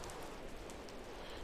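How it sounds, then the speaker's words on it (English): Steady rain falling inside a house in the video game The Dark Tower, a dense continuous patter with occasional brighter drop hits, even in level throughout and with no voices. "interesting to have it rain inside the house."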